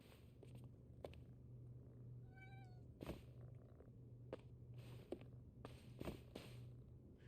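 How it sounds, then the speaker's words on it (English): A cat gives a single faint, distant meow amid a low indoor hum, with scattered soft knocks and clicks around it. "Where is the cat? Because I've heard the cat a few times."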